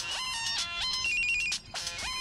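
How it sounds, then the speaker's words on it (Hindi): A bright electronic phone ringtone plays a repeating melodic pattern, fairly loud and close, with no one speaking over it. "अरे ये किसका फोन बज रही आएगा,"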